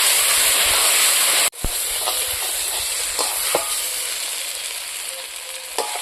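Spice paste sizzles and fries steadily in hot oil for a red hilsa fish head curry with coriander paste and green banana, a loud, close, continuous hiss broken by one brief cutoff, with faint clinks of stirring.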